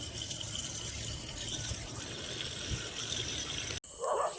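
Drinking water is drawn from a tap in a steady, hissing gush. The flow cuts off briefly near the end, then a fuller splash follows.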